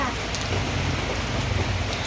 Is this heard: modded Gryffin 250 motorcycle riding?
no